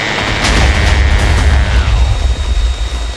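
A GAU-12 Equalizer cannon fires from a helicopter in a Minecraft mod, a loud continuous rumbling burst with booming low end that holds steady, then tails off toward the end.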